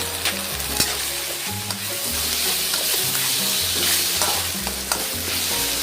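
Spicy beef skin stir-fries in a wok, with a loud, steady sizzle and repeated scraping and tossing strokes running throughout, close by and alone without talk.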